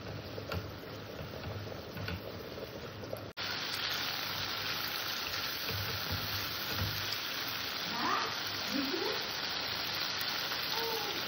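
A spice paste of chopped tomato, poppy seed paste and green chillies fries steadily in oil in a pan, a soft continuous sizzle with a brief break partway, then faint stirring scrapes over the hiss.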